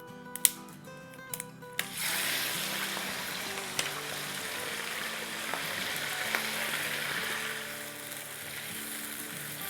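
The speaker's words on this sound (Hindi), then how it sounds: "तो इसको अब हम अपने तेल में डाल देंगे।" Medium pieces of chicken breast dropped into hot oil for Baloch chicken karahi: a few clattering drops, then a sustained loud sizzle with occasional pops and crackles.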